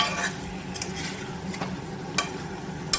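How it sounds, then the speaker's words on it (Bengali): Chicken and potatoes being stir-fried for a Bengali-style kosha, a moderate, steady sizzle punctuated by a few scraping stirs and faint clinks against the pan. "আলু দিয়ে আরো কিছুক্ষণ কষাতে হবে মাংসটায়"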